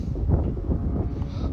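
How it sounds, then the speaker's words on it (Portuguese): Strong wind buffeting the microphone of a drone pilot flying a DJI Mini 3 long range against a headwind, a steady low rumbling roar filling the clip with gusting swells. "O vento tá forte, viu?"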